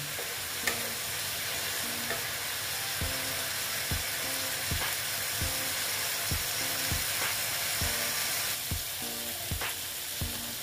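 Kashmiri red chilli powder and spices sizzling steadily in a pan during a Bengali ridge gourd with moong dal dish, with a spatula scraping and stirring in a regular rhythm over the constant fry hiss.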